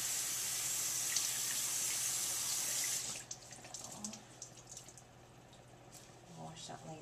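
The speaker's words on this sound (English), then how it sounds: "I'll be washing my face, making sure that all the TCA solution is off" Tap water runs steadily into a sink for about three seconds while someone rinses a TCA peel solution off their face, then stops, leaving only faint drips and quiet handling sounds.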